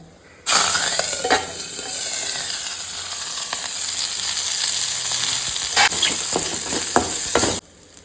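Asafoetida and curry leaves hit hot oil that already holds mustard seeds, starting a loud, close, steady sizzle that runs several seconds, with a few sharp crackles and stirring clinks near the end before it cuts off abruptly.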